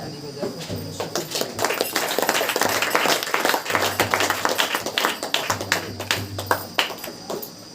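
A church congregation at a Hindi-language Saturday praise meeting claps hands in a steady, rhythmic beat, the sharp claps layered over voices and background sound.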